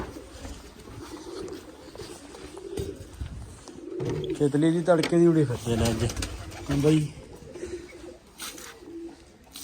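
Pigeons coo close by in a rooftop loft in a soft, rolling burst, while someone talks over them and other noises come and go.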